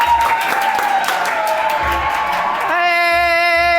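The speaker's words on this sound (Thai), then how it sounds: "พ่อจ๋าแม่จ๋าเสียงปรบมือให้กับไอ้หนุ่มหน้าใสหน่อยจ้า" At a live product sales show, an audience claps and cheers in a broad wash of applause, with sustained tonal music-like sound running through it and under it.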